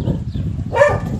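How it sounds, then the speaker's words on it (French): A dog barks once from a neighbouring home in a European town, a brief muffled yelp rising over a steady low background rumble. "Enfin, c'est le chien."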